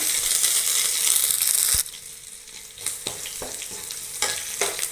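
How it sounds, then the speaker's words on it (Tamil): Crushed ginger and garlic frying in hot oil with mustard seeds and split dal, a loud dense sizzle for nearly two seconds, then a quieter crackle broken by a few sharp spoon scrapes and stirs. "இஞ்சி பூண்டா தட்டிக்கிறேன் வதக்கிக்கிறேன்"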